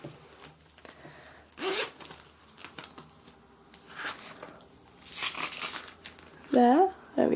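A zip wallet inside a Filofax Finsbury organiser is zipped in a few short raspy bursts, with soft handling rustles between and a brief voice near the end.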